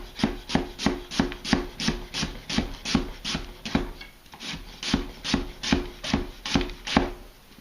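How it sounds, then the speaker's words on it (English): A knife slices thinly through an onion on a cutting board, making a steady, close series of crisp chopping thuds, about two per second, with a brief pause midway. "I'll be slicing all the way through the onion"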